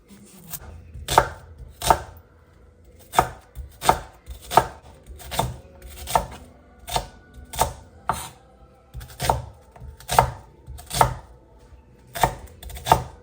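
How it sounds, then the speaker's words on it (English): Onions roughly and quickly chopped with a knife on a cutting board, about twenty sharp close knocks in an uneven brisk rhythm with quiet gaps between, no talking. "So I just chopped up the onions"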